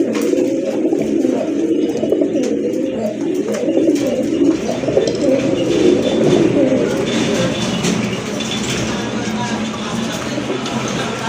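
Pigeons, a female and male pair in a Bangladeshi pigeon seller's loft, coo steadily in low, throaty, overlapping calls close by, with faint background noise throughout.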